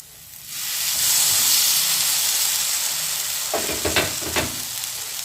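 Curd-dipped bread slices toasting in a hot pan give a steady sizzling hiss throughout, with a few scraping stir or flip sounds near the end; no one speaks.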